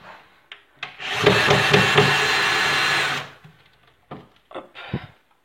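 A power screwdriver loosens a screw on a wardrobe: a loud, close whirring burst of about two seconds, followed by short clicks and handling knocks.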